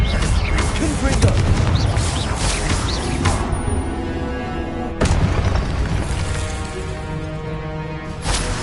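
Repeated deep booms from the Confringo blasting spell in Hogwarts Legacy rumble through dense battle noise, with a sharp fresh blast around the middle and another near the end, while voices shout over the din.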